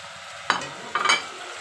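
Methi chicken being stirred and fried with spices in a pan gives a soft background sizzle broken by two quick scraping stirs, close by.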